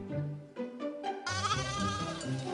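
Large flock of sheep with lambs in a Podhale mountain pasture, overlapping bleats from adults and higher-pitched lambs calling one after another, fairly close and clear with no speech.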